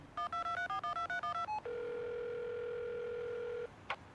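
A phone call placed by voice assistant plays a rapid sequence of dialing beeps, followed by a long steady tone as the line starts ringing, with a brief click near the end.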